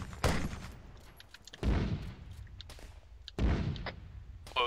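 Gunfire and shell impacts in a military naval video game, coming as three loud thudding bursts about 1.5 seconds apart, each decaying into rumble, with faint clicks between them.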